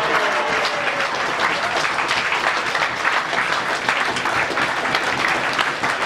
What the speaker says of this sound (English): Ken Livingstone, please give a round of applause.